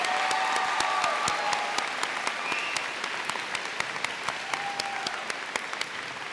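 A large audience applauds the graduating seniors of the National Honor Society at a high school senior convocation, steady dense clapping throughout with a few sharper individual claps standing out and faint whistles or cheers mixed in.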